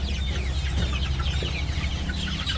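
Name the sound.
chickens clucking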